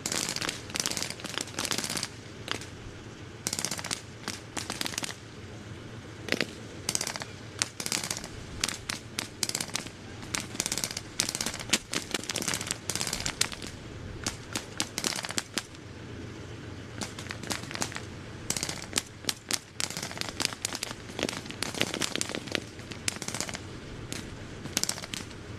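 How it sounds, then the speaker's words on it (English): Grenade blast and rapid gunfire from infantry at a Tank Museum Tankfest tank battle display, a dense run of sharp cracks and bangs, some in quick bursts, continuing outdoors for the whole stretch. "The infantry have just thrown a grenade in there to clear"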